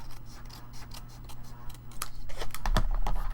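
Scissors trimming a folded paper card, a string of light crisp snips that grow sharper and closer toward the end, over a soft background hum, with no talking.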